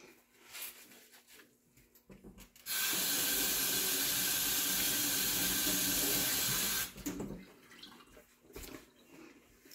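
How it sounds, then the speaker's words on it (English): Hands washed under a running kitchen tap during fudge candy making, a steady loud rush of water for about four seconds, starting and stopping abruptly, with quieter kitchen handling noises before and after. "let me wash my hands off"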